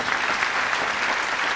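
A studio audience on an Italian television talent show bursts into dense, steady applause, loud and close, filling the whole short stretch with no one speaking over it.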